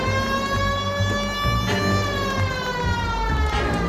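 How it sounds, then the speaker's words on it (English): A police car siren wails in the video game L.A. Noire, its rising and falling tone held steady over a low engine hum. No one speaks. "Turning on the sirens is the best way to get cars to get out of your way."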